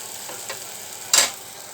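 Kechki fish masala stirred in a frying pan, a soft low sizzle with a couple of light scrapes and one brief, sharper spatula clack near the end.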